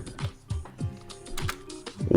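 Someone types on a computer keyboard in several quick clusters of soft, close key taps with short pauses between them.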